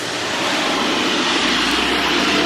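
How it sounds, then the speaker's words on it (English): Loud BMW M4 passing, a broad roaring engine and exhaust rush that swells and holds steady throughout, close and dominating with no speech. "The M4 is loud."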